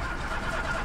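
A car's electric fuel pump motor running, checked while diagnosing a suspected fuel pump fault, makes a brief, steady, even whirring hum with no pauses.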